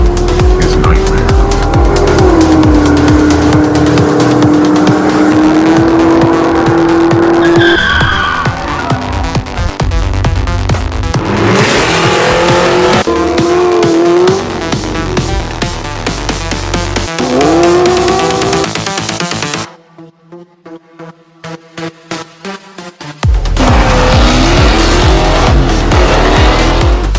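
A custom 1969 Mustang GT500 racing with its engine revving hard and tires squealing in long, rising and falling screeches, loud and close, with a brief dip into quieter passes before the roar returns.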